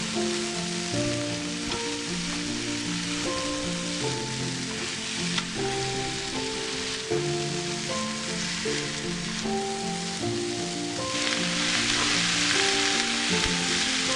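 Spiced green chicken masala fries in a pan with a continuous crackling sizzle like light rain. Soft background music plays underneath, and the sizzle grows slightly brighter toward the end, with no talking.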